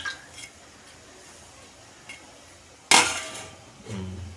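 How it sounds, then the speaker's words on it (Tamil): A lid is set onto a pot of simmering dry fish curry, giving one sharp, close metallic clank. A softer clatter follows, with faint scattered kitchen knocks before it. "லைட்டாக மூடி வச்சுக்குவோம்"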